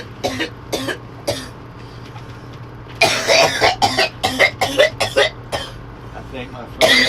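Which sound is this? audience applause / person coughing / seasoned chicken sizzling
person coughing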